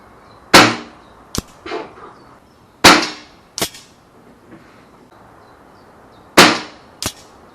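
A Weihrauch HW97KT air rifle fires pellets at a 25 m target, with three sharp, loud shots spaced a few seconds apart, each followed by a quick smack or click and quiet between.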